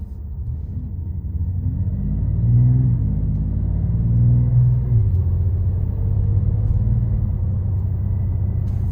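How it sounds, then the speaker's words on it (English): A 2026 Dodge Charger Scat Pack six-cylinder engine rumbling from inside the cabin while driving, a low steady drone that swells into gentle revs and eases back as the car cruises. "So this 6-pack engine is a bit more raw, a bit more real"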